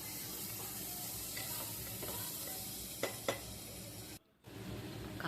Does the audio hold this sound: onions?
yes